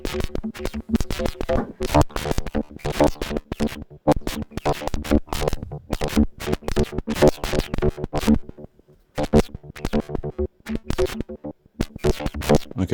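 Buchla 200e modular synthesizer patch with a spiky, jagged character: dense bursts of sharp, clicking pulses in irregular clusters, loud and busy, with brief gaps toward the end, no talking.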